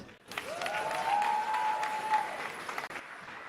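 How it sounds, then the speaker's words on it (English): Steady applause from a crowd at a wedding sangeet night fills the clip, with a tonal whine running through the clapping. "can we give all the guys performing a round of applause?"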